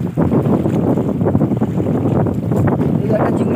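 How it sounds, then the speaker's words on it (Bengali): Strong wind buffets a fishing boat on a Sundarbans river, roaring continuously and loudly across the microphone with gusty surges. "আজকের প্রচুর বাতাস, নদীতে প্রচুর ঢেউ"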